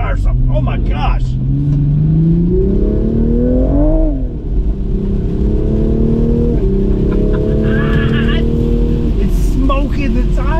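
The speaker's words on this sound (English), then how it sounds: "It's smoking the tires." A Toyota Supra in sport mode revving hard while spinning and smoking its tires, a loud close engine drone whose pitch climbs, dips and climbs again, with voices talking over it.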